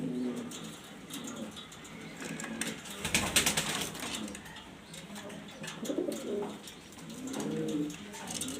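Jorna satin pigeons coo in soft, repeated rolling phrases close by, with a brief louder rustle of wings midway and faint chirps around them.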